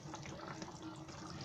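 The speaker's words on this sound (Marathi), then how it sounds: "गरम पाणी ओतते" Hot water poured into a pan for prawn rice, a steady close rushing and splashing pour that continues throughout without pause.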